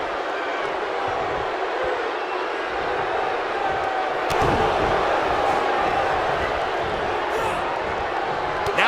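An arena crowd in the WWE 2K19 wrestling game, from Mr. McMahon vs Shane McMahon at Starrcade '83, keeps up a constant roar and murmur with a sudden thud near the middle, and a commentator's voice runs over it.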